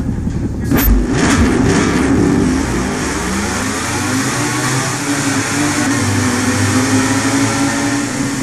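Racing motorcycle engines rev together on the grid of the Sachsenring circuit at the German Grand Prix in the MotoGP 17 video game, a loud, dense, continuous mechanical drone with rising and falling pitches.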